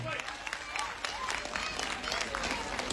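Clapping from an audience at a dance competition, a dense patter of many hands that continues steadily for a few seconds, fairly close, with some voices mixed in.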